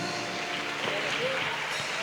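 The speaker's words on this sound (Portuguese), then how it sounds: "Você pode aplaudir o Senhor em nome de Jesus?" Church congregation applauding the Lord during a service, as a steady, dense wash of clapping with a faint voice underneath.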